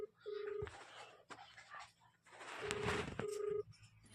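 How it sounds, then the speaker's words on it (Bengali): A phone call rings out on the line, with repeated tones in short bursts between brief gaps and a clicking, breathy noise around them, heard fairly close and clear without talk over it. "রিং হচ্ছে নাকি? হ্যাঁ গো হচ্ছে"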